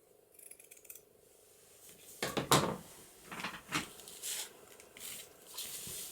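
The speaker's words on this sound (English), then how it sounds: "Okay, so let's cut this lace." Scissors cutting lace for a papercraft junk journal, a few quiet crisp snips and rustles, close and faint, spread over several seconds with no talking.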